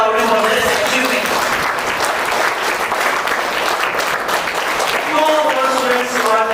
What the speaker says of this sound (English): Clap loudly for this achievement.